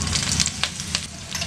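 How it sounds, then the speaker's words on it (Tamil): Curry leaves hitting hot oil in a pan for a soya pallipalayam dish, a dense crackling sizzle with quick popping bursts, close and continuous. "இப்போ இதில் 1 இனுக்கு கருவேப்பிலை போட்டுக்கலாம்."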